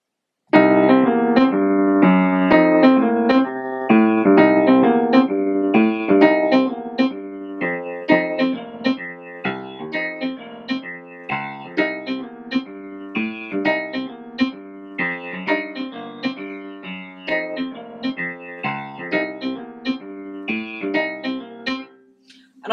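A blues riff on the minor third, root and seventh repeats over a blues sequence: steady, bright tonal notes with accompanying chords in a continuous rhythmic pattern, fairly loud and alone with no talking.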